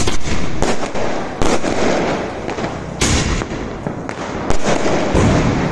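Diwali firecrackers explode in a loud, dense barrage in Dehradun, with sharp bursts and crackling pops repeating every second or so over a continuous roar of distant blasts.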